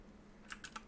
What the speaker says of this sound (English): so Gazimer keeps typing